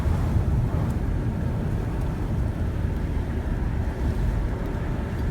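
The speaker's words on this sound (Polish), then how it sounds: "normalnie jezioro jest tak wzburzone dzisiaj jak," Choppy, rough lake water in Florida churns and sloshes continuously with a heavy low roar, wind rushing over it, loud and close with no break.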